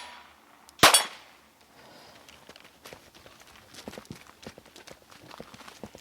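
A pistol fires at steel targets during a Finnish Brutality 2021 practical shooting stage. One sharp, loud report is followed by quick, scuffling footsteps and gear clatter.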